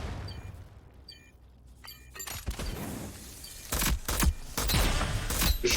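Gunfire from a Rogue Company match in broken bursts of sharp shots over game noise, growing louder and denser toward the end, with no talk over it.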